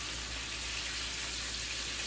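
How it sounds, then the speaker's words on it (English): Chicken frying in hot oil in a home kitchen, a steady soft sizzle and crackle that holds even and fairly quiet throughout, with no voices. "You're gonna leave it and let it fry some more."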